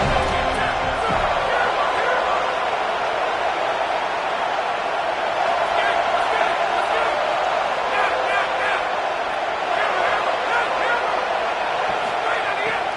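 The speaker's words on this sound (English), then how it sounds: "this crowd trying to help this defense rise to the occasion" A football stadium crowd roars steadily on fourth down, a dense, continuous wall of cheering and noise from a large audience, loud and unbroken throughout, with a commentator's voice faintly over it.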